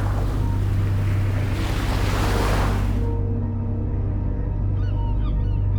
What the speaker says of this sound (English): Lightning was flashing and huge waves were everywhere.